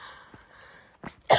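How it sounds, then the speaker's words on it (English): A single sharp cough from a hiker out on a forest trail, loud and close at the end after a brief quieter throat sound, over faint background hiss. "excuse me for the cough."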